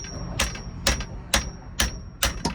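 Five sharp, evenly spaced hammer strikes ring out on metal as a shift part is driven out of a Honda Civic transmission during a driveway conversion, each hit short and clanging.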